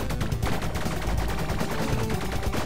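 Enemies in the game Bleed fire bullets in a dense, loud, continuous stream of rapid gunshots, crackling without pause throughout.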